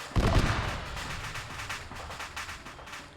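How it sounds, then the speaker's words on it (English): Ammunition cooking off in a video game gives a rolling barrage of booms and crackling bursts, loud at first and continuing in a dense, uneven rumble without speech. "We're gonna have to wait for the cook-off to die down."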